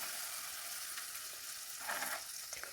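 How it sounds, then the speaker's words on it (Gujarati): Sour buttermilk poured into a hot pan over a low flame sizzles steadily while being stirred, with a louder bubbling surge partway through, close and alone without talk. "આપણે એમાં ખાટી છાશ એડ કરશું અને ગેસ સ્લો જ રાખવાનો છે અને છાશ એડ કરી અને હલાવતું રહેવાનું"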